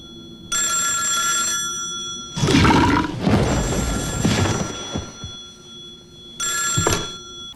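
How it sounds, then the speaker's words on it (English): An old-style telephone bell rings in a tense scene from the Japanese horror film Audition, two rings separated by a loud rumbling, rolling passage, the bell clear and close at the start and again near the end. "And then the phone rings"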